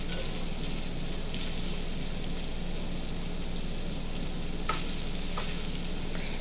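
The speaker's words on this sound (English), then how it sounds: "We're going to begin to saute our onions first." Onions sautéing in olive oil in a pan give a steady, close sizzle that runs the whole time, broken by a few brief clinks of stirring.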